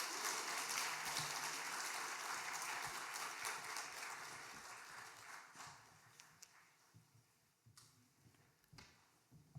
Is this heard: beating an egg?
no